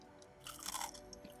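A bite into crunchy Popeyes fried chicken gives one short, close crackling crunch of the crispy coating in an otherwise quiet moment.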